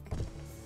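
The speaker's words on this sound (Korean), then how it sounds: "창문은 내리는 거는 자동," A Trax crossover's rear power window lowers automatically with a brief, soft motor whir and a faint mechanical rumble. It sounds close and quiet and lasts under a second, with no voices.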